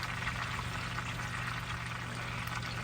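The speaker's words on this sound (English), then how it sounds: "You can see the bubbling in the bottom there." Garlic-stuffed pork shoulder simmering in a skillet, giving a steady, close bubbling and sizzling hiss that holds even throughout with no one talking.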